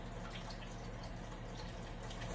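A paintbrush dipped and swished in a cup of painting water, giving faint, soft watery trickling and dripping with no talk.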